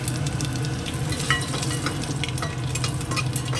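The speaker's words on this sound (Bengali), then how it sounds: "তেলটা গরম হয়ে গেছে পাঁচ ফোড়ন জিরে শুকনো লঙ্কা তেজপাতা দিয়ে দিলাম" Panch phoron, cumin seeds, dried red chili and bay leaf frying in a little hot oil, a steady close crackling sizzle with scattered pops and stirring scrapes throughout, no voices.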